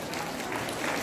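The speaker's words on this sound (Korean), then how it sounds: "서로 박수 한번 쳐주세요" An audience applauds, a brief burst of steady clapping from a group indoors with murmured voices underneath.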